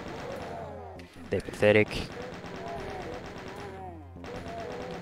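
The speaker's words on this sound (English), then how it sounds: "These zombie men, let's just mow them down with the chain gun." A chain gun fires rapid bursts at zombie men in Doom II, a fast rhythmic rattle running through most of the clip, with a louder impact burst in the middle and someone speaking over it.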